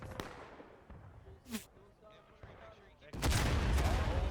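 Musket volley gunfire in the Civil War game War of Rights during a river crossing battle: a few scattered shots early on, then a loud rolling burst of massed fire near the end, with voices chattering underneath.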